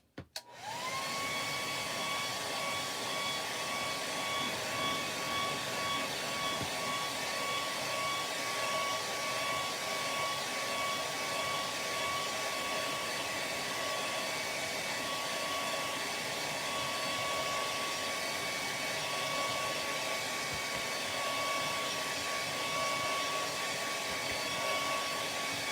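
A hair dryer blows steadily on chalk-painted St Patrick's Day decor, a loud, continuous whirring drone with a high whine that starts abruptly and holds unbroken throughout, with no talking.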